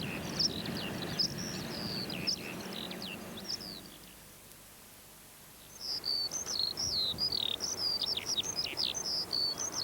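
Meadow pipit song: thin, high bird calls in quick repeated phrases, pausing briefly midway before resuming, over a soft outdoor background.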